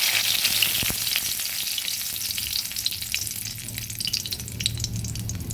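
Dried red chili and bay leaves frying in hot oil in a wok, giving a steady loud close sizzle and crackle that continues without a break, with occasional stirring scrapes.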